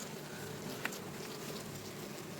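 A steady, low buzz of honeybees droning around their hive fills the background, with a brief faint click partway through, during honey harvesting in Kharkiv Oblast.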